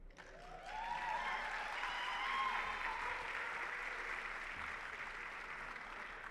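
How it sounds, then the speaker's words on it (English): Audience applause for Shelley Brown at a dental hygienist awards ceremony, a broad sustained clapping from a large hall that swells within the first second and stays steady throughout. "I was going to say big applause for Shelley Brown, but you already did"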